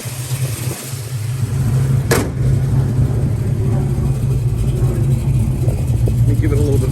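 A 1970 Dodge Challenger engine runs close by with a steady low rumble after a brief sharp knock, holding a rough idle-like drone with slight rises, while someone talks over it.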